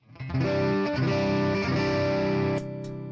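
An electric guitar through a clean Morgan AC20 tube amp with no reverb strikes a chord and lets it ring out loud and sustained, then a second softer chord follows.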